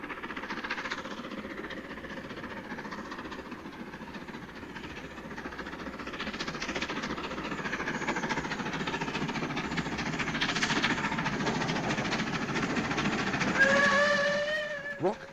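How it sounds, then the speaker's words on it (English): A BR 9F steam locomotive on the Somerset & Dorset line works past with a rumbling exhaust, and its whistle sounds clearly near the end over the steady roar of the passing train. "With smoke to order, a 9F emerges, driven by Bert Brewer and fired by Peter Smith."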